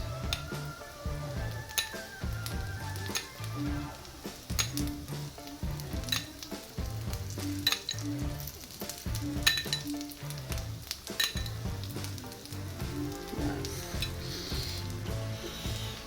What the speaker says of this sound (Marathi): तुम्ही बघू शकता हळूहळू ते फ्राय होतं.